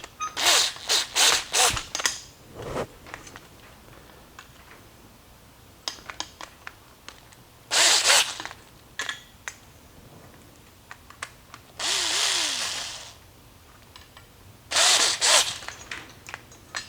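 A power driver tightens fasteners on a Ryobi self-propelled mower transmission in repeated loud whirring bursts of a second or two, separated by quieter clicks and handling noises.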